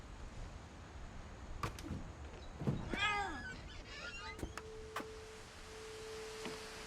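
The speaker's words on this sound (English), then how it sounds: "Cat! Cat!" A cat in the video game What Remains of Edith Finch gives a short, faint meow amid soft ambient clicks and a low steady tone, with no one talking.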